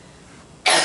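A single short cough bursts out during a press briefing, sudden and loud after a near-silent moment, heard close with no speech.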